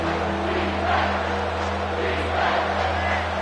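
A home crowd at a football game roars in a steady, loud, sustained wash of cheering and shouting, filling the stadium with no breaks.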